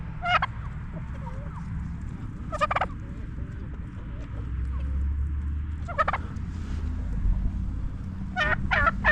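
A turkey gobbles several times in short rattling bursts, spaced apart, over a low background rumble outdoors.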